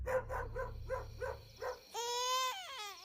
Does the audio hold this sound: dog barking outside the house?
yes